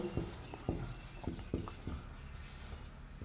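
A hand writing out a math equation, soft scratchy pen strokes in short irregular taps at close range, quiet against a faint background.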